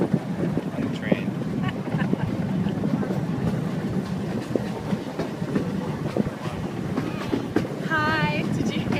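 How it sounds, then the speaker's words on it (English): A miniature park train ride at Vasona Park, with a continuous rumbling clatter of the rolling cars and gusts of wind noise close to the microphone, as a voice and an adult's voice break in briefly. "On the train."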